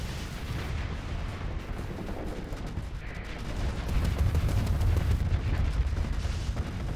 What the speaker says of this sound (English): Just continuous missile fire.